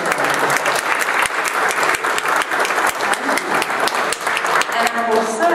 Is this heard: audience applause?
yes